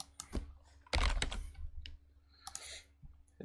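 Clicks from a computer keyboard being typed on come in short, irregular bursts, close and quiet.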